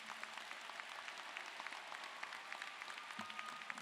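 Audience at a college commencement ceremony applauding family members and friends, a steady wash of scattered clapping heard from a distance, fairly faint with a few sharper individual claps standing out.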